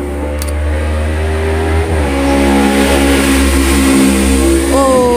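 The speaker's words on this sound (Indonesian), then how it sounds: "Rumahku di pinggir jalan raya, jadi ya beginilah suara bising ya" Road traffic on a busy main road outside a house, a continuous loud rumble of passing car and motorbike engines with one vehicle revving and shifting pitch, no voices.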